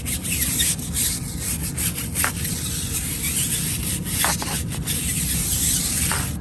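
A stiff brush scrubs a car tire with a steady, close, loud rubbing rasp that keeps going without a break, with a few sharper strokes standing out.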